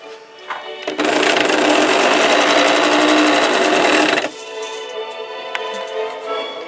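A Westinghouse model ALB sewing machine stitching, a loud, steady, close mechanical whir of fast rapid stitching that runs for about three seconds and then stops abruptly, leaving quieter handling and background noise.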